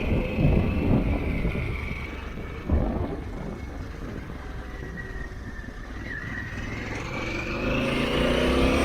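A 2021 Harley-Davidson Pan America motorcycle rides along a Texas road while shifting into second and rolling on the throttle, its engine rumbling under heavy wind rush, with a brief thump as the gear changes and a rising note afterwards.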